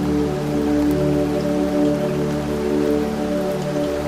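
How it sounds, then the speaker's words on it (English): Steady rain patters on a cottage roof at night, a soft continuous wash of drops with a low steady hum beneath, even and unbroken throughout. "As the rain taps gently on the cottage roof"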